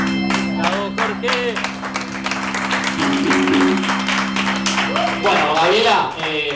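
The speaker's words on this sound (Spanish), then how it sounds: "Yo aplaudiría a Jorge Rodríguez." Scattered clapping and applause from a small group rises and falls while voices talk over it.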